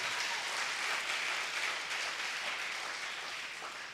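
A church congregation applauds to acclaim Jesus during a service, a dense, steady wash of clapping from many hands that fades slightly toward the end, with no talking.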